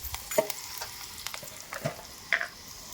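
Poha tempering and frying in a pan, giving a soft steady sizzle with a few sharp clinks and scrapes scattered through it. No voices are heard.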